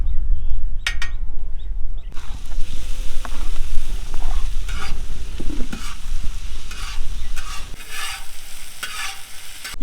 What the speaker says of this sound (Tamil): இப்போ வெங்காயம், தக்காளி, சின்ன வெங்காயம் இது 3 பார்த்தீங்கன்னா நல்லா வதங்கணும்.